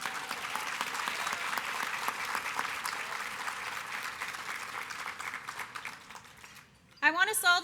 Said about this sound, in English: Let's also give Edith Yoakley a round of applause for the wonderful performance while we were waiting.